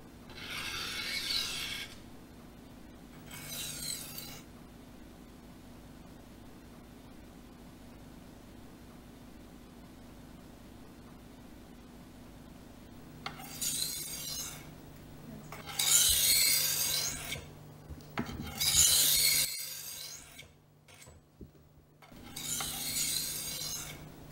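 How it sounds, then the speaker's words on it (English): A European-style knife is sharpened on a Norton sharpening stone, giving bursts of gritty rasping strokes that come in separate runs with quiet gaps between them, close and clear. "Remove the guide and begin sharpening."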